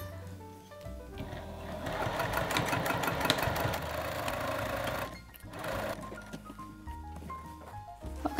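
A sewing machine stitches a fat quarter tote bag at 2.5 mm stitch length, running steadily with a busy mechanical whir and rapid needle ticking, pausing briefly near the middle before resuming close up.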